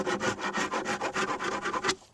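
A metal hive tool scrapes propolis buildup off the edge of a wooden beehive box in quick, rhythmic rasping strokes, about a dozen close, loud pulls in steady succession before stopping.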